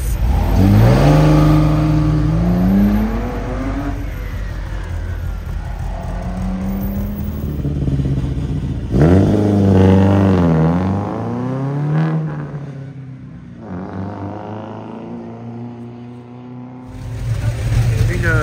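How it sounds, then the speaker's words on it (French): Classic Lancia Stratos rally car revving its engine at a Tour Auto road event, with repeated rising and falling revs, close and loud, the engine note easing off midway before rising again, while people talk over it. "Lancia Stratos."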